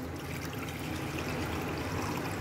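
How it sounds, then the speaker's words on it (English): Water poured off settled rice by tilting a container, a soft continuous trickle and splash lasting a couple of seconds, close and fairly quiet. "now we are going to remove this water by tilting the container like this"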